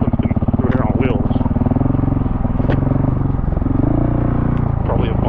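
KTM 690 Enduro R motorcycle ridden along a sandy forest trail in Ocala National Forest, its single-cylinder engine a steady, close, loud thrum throughout, with a rider's voice talking over it.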